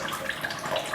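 Water running from a Multi-Pure filter tap in a home kitchen, a brief steady splashing flow, near and moderately loud.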